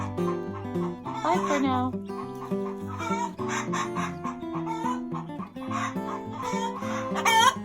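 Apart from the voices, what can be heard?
chicken clucking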